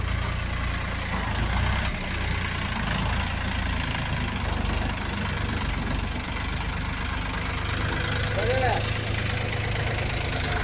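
A Dongfeng DF 244G2B tractor engine idles in a steady, low, rumbling drone that holds at an even level throughout, close by, while people talk over it.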